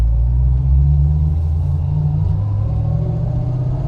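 A 1966 Ford Mustang coupe's engine runs steadily while driving, a loud continuous low rumble filling the interior with no talk over it.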